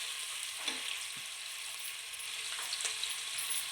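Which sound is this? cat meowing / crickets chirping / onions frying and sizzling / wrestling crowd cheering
onions frying and sizzling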